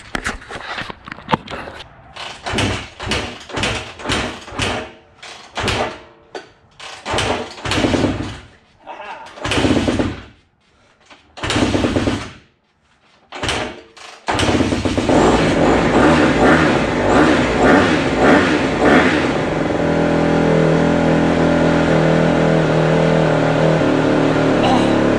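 A Honda CRF150R dirt bike is kick-started in a series of irregular thumping kicks and sputters, then the engine catches and runs in a steady loud idle to the end, with a person talking early on.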